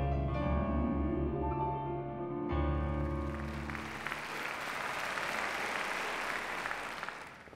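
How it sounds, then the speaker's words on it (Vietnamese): An audience in an animated football story breaks into enthusiastic applause, a dense wash of clapping that follows a short burst of music and continues steadily to the end. "Nghe người xem vỗ tay nhiệt liệt là đủ biết rồi"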